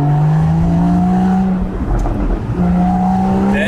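A Porsche 981 Boxster GTS with a naturally aspirated 3.4-litre engine and no particulate filter revs loudly and close, a strong droning note that dips briefly mid-way and then climbs back up.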